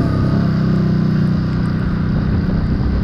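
A Ducati Supersport S motorcycle runs steadily on a race track, its engine drone loud and close with a continuous even tone and no talk over it.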